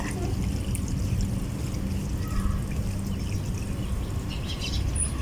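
Water pours and splashes steadily as garden plants, including a mango, are watered, a continuous hissing trickle with faint birds chirping in the background.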